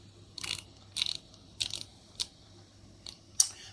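A Pax M2 rangefinder camera shutter fires and is wound several times, giving a series of soft, close mechanical clicks and brief ratcheting bursts, quiet and alone.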